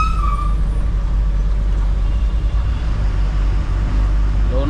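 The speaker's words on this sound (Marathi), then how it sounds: "He traffic." Road traffic on the Pune–Mumbai route near Lonavala, a steady loud roadway rumble of passing cars, buses and trucks with a brief air-brake hiss near the start, continuous throughout.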